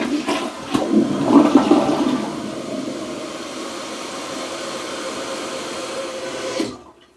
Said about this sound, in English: Half the flush.